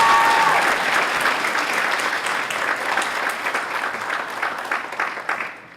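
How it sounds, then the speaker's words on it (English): Audience clapping for a student at an academic awards ceremony, a full burst of applause that begins loud, stays steady and dense, then tapers off quickly at the close. "Let's give her a round of applause."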